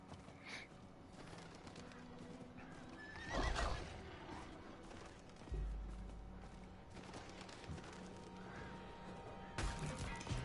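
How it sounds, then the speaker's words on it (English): A horse mount in the Diablo IV video game whinnies and gallops, its clip-clopping hooves running steadily beneath a few neighs and game effects, with no talk over it. "I'll go on the horse though. Let me get the horse out here."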